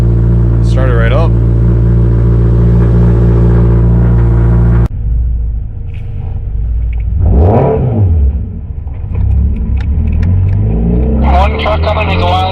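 A cheap, newly street-legal Scion FR-S sports car engine idles with a steady, loud rumble, then shifts to a rougher, varying drone as it keeps running, with people talking over it.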